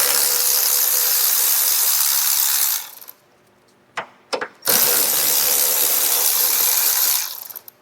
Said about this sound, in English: If I can break it loose with my electric ratchet